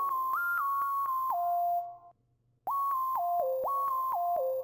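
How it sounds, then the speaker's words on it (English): An echoey, airy sine lead synth with a bit crusher effect plays a short stepping melody of bright whistle-like tones, cutting out for half a second mid-phrase before resuming, clean and alone. "It is a sine lead, and it sounds like this"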